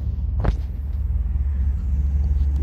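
A 1965 Chevy Impala Super Sport with a 327 V8 and four-speed idles with a steady, deep rumble close by after firing up.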